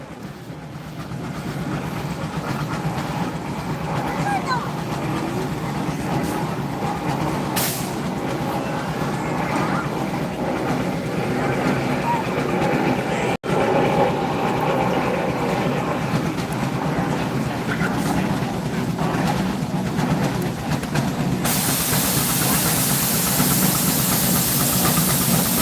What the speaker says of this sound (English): Should have one more engine that's just pulling straight.